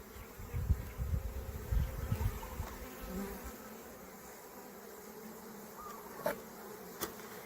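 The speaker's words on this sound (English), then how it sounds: "This is where the bees are making and storing honey." Honeybees buzzing steadily at an open hive in a honeybee sanctuary, a dense close drone that swells in the first few seconds and then settles into a softer, continuous hum with a couple of brief knocks.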